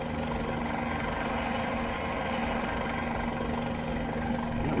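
Guimbal Cabri helicopter engine in Microsoft Flight Simulator, a steady droning hum with a constant low tone, loud and unbroken with no talking.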